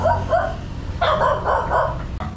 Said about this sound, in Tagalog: galit na galit yung aso kay Dulce